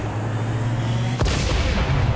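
A cannon fires in the turn-based strategy game XCOM 2: a single loud, sharp blast lands abruptly in the middle, cutting off a steady low hum, followed by lingering rumbling noise.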